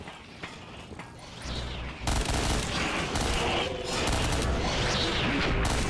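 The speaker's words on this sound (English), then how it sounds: "Why is this like firework effect all of a sudden?" Rapid, dense bursts of firework-like explosions in the Black Ops III Zombies custom map Trinity Station: Outpost 47, loud and continuous, starting sparse and swelling into a sustained crackling barrage.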